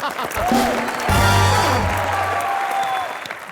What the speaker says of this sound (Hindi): राजा के लिए जोरदार तालियां।